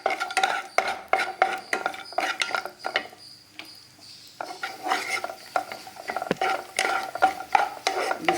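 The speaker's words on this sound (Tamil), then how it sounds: "கொஞ்சம் நெய் போட்டோம். இந்த முந்திரி திராட்சை இதெல்லாம் பார்த்தீங்கன்னா வறுத்து" Cashews and raisins roasting in ghee for aval (flattened rice) laddu, a spoon scraping and stirring them around a pan in steady repeated strokes, with a short pause midway and no talking.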